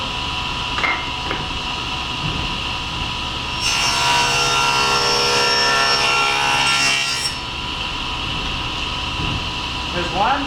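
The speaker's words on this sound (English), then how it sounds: "so this dado cut is going to look just like this" A saw cuts a dado into a wooden drawer part. A loud, steady cutting whine runs for several seconds in the middle and is framed by quieter workshop handling noise.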